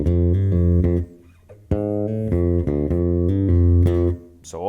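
A guitar plays a short jazz phrase that uses a pull-off between notes. Two clear, close melodic runs are separated by a brief pause, with no voices.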